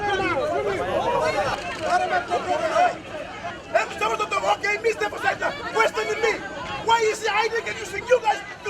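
Agitated crowd at Port Moresby General Hospital in Papua New Guinea, a dense babble of many overlapping voices with shouts rising and falling, close and loud throughout.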